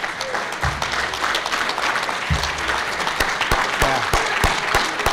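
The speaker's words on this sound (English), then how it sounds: "Hey, now we can clap," Audience applause at a baseball hall of fame induction speech, a dense, lively clapping that holds steady for the whole stretch in a large room, with no speech over it.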